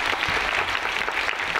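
An audience at a film festival applauds steadily and fairly loudly, a dense wash of clapping that continues without a break.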